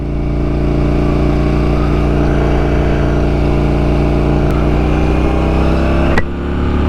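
A 2021 KTM Duke 890R motorcycle engine drones steadily while riding on a clear warm day, a loud continuous low rumble with constant wind noise, close to the microphone, with no talking.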